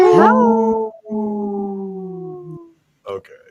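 A wolf gives two long, sustained howls close by, each one rising and then holding steady, followed after a brief silence by a short yip.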